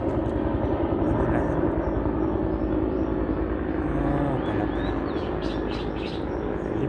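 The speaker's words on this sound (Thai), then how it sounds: "เสียงเครื่องบินก็บินครับครับครับ" An airplane flying overhead makes a continuous low, broad engine roar that fades slightly toward the end. Birds chirp faintly above it.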